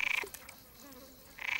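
Frogs living in a well give short, buzzing calls, two bursts opening and closing the moment with a quieter, echoing lull between them.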